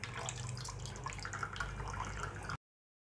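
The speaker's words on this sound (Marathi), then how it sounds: "यामधील सर्व पाणी असं गळू द्यायचं आहे।" Whey trickling and dripping from milk curds wrapped in cloth while being made into chakka for kalakand, a steady close wet patter with no voices.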